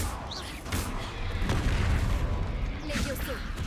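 Confringo fire spell in Hogwarts Legacy, a burst of booming blasts with rumbling impacts and crackling debris, loud and close, with a voice casting spells over the action.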